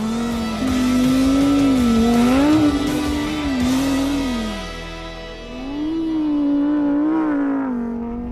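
Lamborghini Huracán Sterrato V10 supercar driven off-road on a desert track, its engine roaring loud and close with rising and falling revs, easing off briefly midway before climbing again.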